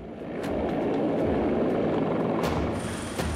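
A helicopter's steady rotor and engine roar fills the scene throughout, loud and continuous with a broad rumbling wash, during a military training exercise with commandos.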